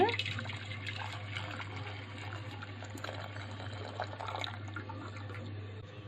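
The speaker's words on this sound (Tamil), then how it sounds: "கருப்பட்டியில் மண் இருக்கும், அதனால வடிகட்டிடுங்க." Palm jaggery (karupatti) syrup is strained to remove grit while making sweet jangiri, a faint, steady trickle and splash of pouring liquid over a low background hum.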